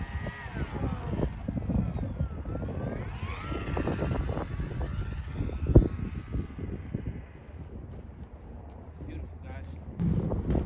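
An FT Versa flying-wing RC plane comes in to land outdoors. Its electric motor whines faintly and shifts in pitch beneath heavy, gusty wind buffeting the microphone.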